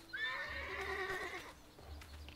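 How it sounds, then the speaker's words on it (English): Horses whinny loudly in the video game Lego Worlds, one long shrill neigh with wavering pitch lasting over a second, followed by softer snorts and faint hoof clatter. "There's loads of horses."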